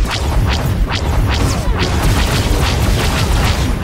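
Turrets fire in the SWTOR video game, a close, loud barrage of repeated booming blasts and sharp impacts in a steady, rapid rhythm under continuous rumbling.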